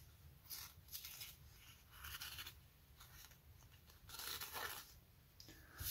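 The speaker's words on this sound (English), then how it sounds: "Going easily through that paper towel." Quiet scraping rasps of a freshly sharpened knife cutting through paper towel, several short strokes in irregular succession, close and faint.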